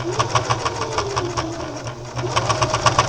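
Sewing machine stitching a lining into a fabric bag, a steady mechanical whirr with rapid needle clatter that runs continuously, briefly eases mid-stretch, then picks back up, close and fairly loud.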